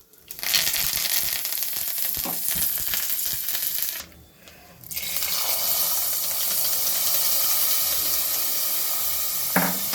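Curry leaves sizzle in hot sesame oil while tempering for a brinjal and potato kadaiyal, a loud, steady close-up frying hiss that cuts out briefly partway through and then resumes.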